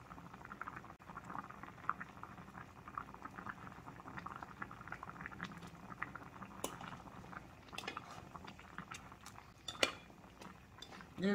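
Oyster and rice cake soup with green onion simmers at a gentle boil in a pot, a soft, steady bubbling with light clinks and patters, faint and close throughout.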